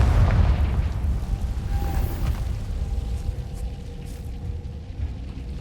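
A Confringo blasting spell explodes in the video game Hogwarts Legacy, opening with a deep, loud boom that fades into a long rumbling tail with no voices.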